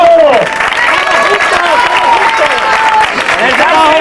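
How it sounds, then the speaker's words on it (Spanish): Crowd applause for motocross riders at a prize ceremony, loud sustained clapping and cheering up close, with voices calling out over it. "Buenos aplausos para todos."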